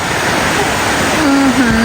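Heavy rain and rushing runoff on a mountain road climbing toward a ridge, a loud continuous wash of water with a faint tonal whine rising briefly near the end.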